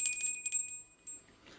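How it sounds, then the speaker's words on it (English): A small bell is rung a few times in quick succession to cleanse energy, bright rings that fade out in a quiet room. "as always, we are ringing the bell"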